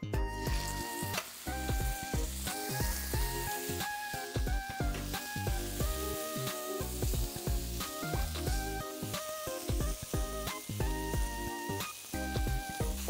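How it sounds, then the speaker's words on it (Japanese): Salted steak searing in a well-heated frying pan, a steady close sizzle with light spattering, partly covered by tonal background music. "十分フライパンが温まりましたのでお肉を焼いていきます"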